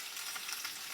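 A flounder fillet in a potato crust fries in a pan with a steady, bright sizzle that stays dense and even throughout, close up and without speech.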